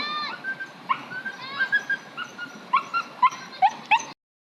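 A dog whimpers and yips in short, high-pitched cries, several separate bursts close by, some rising into sharp little barks.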